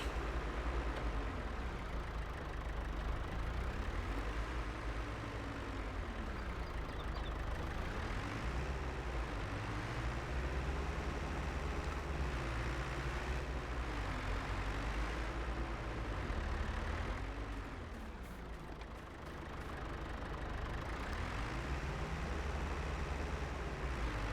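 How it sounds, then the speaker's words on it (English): A farm tractor pulls a trailer across a meadow, its engine a loud, continuous drone that labours and rises and falls in pitch as it strains under the load. "Come on, tractor, I don't know why it doesn't normally have this problem pulling this trailer."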